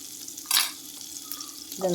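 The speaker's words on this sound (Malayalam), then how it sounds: "പാൻ വെച്ച് അതിലേക്ക് നമുക്ക് ബട്ടർ ഇട്ട് കൊടുക്കാം. ബട്ടറിൻ്റെ കൂടെ അല്പം ഓയിലും കൂടെ ഒഴിച്ചു കൊടുക്കാം." Butter and a little oil melting in a frying pan, giving a soft hiss with a brief louder sizzling burst, then a fresh crackle at the end.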